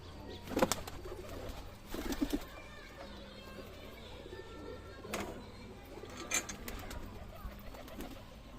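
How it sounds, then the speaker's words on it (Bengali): Faint pigeon coos in a quiet home loft as the birds are let out, with a few bursts of wing flapping and shuffling scattered through, fairly distant and soft. "পায়রাগুলোকে ছেড়েই দিই"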